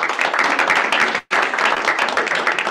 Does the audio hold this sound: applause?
yes